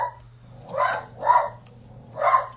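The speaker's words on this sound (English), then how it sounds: "my dog is barking" A dog barks three times in separate muffled barks, moderately loud and somewhat distant, with a steady low hum underneath.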